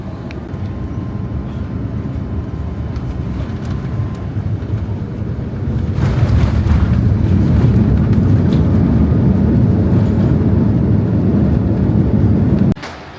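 Business class airplane cabin during descent before landing in China, a steady low roar of engine and airflow that grows louder partway through, then drops abruptly at the end.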